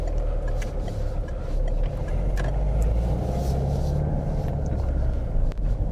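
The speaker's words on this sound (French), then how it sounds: "On entend bien le moteur, je suis au point d'équilibre." A car engine idles at the clutch biting point during a driving lesson, producing a steady low rumble as the car creeps slowly forward, with faint cabin noises and no talking.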